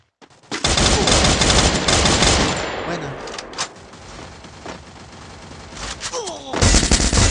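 Rapid bursts of video game gunfire from a player's weapon, loud and dense at the start, thinning into scattered shots midway, then a heavy burst again at the end, with a voice talking over parts of it.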